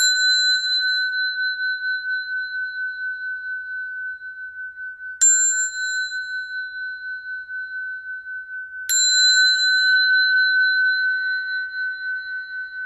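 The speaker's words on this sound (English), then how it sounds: "Let me ring the bell for peace" A bell rung for peace: three clear metallic strikes spaced a few seconds apart, each ringing out with a long pure sustain that slowly fades, alone without voices.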